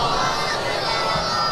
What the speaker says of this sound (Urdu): اپنی اپنی دعاؤں دی قبولیت واسطے بلند صلوات پڑھو